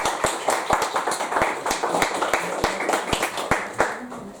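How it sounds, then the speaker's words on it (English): Audience clapping at a chamber of commerce candidates forum, a modest crowd's applause with distinct individual hand claps in an uneven patter, moderately close, with faint voices underneath. "please give him a round of applause"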